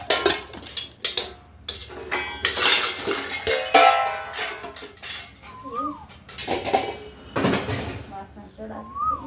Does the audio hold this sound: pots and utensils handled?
yes